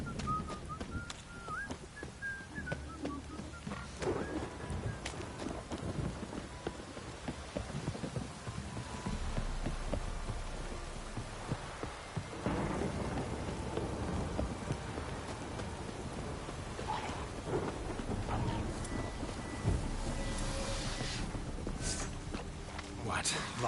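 Steady rain patters throughout in the video game The Witcher 3, with low rumbling swells like distant thunder and a faint whistling tone early on.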